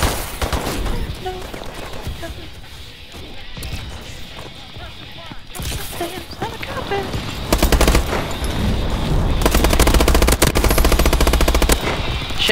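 Rapid gunfire from the video game Advanced Warfare bursts and rattles throughout, growing into dense sustained automatic fire toward the end, with game noise mixed in.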